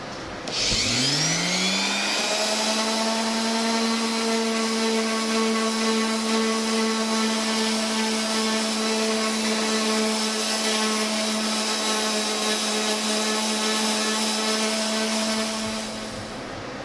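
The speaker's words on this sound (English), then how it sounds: "sanding them with a power sander, it's going to take all this away and make it look uniform" A power sander runs on 2x4 lumber being smoothed for a wall shelving unit, spinning up fast and then holding a loud, steady, high whine that lasts well over ten seconds before easing off near the end.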